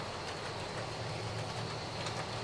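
An HO scale model train with covered hopper cars runs around a 10-foot diameter loopback track, a steady, fairly quiet rolling rumble with faint wheel clicks and no talk.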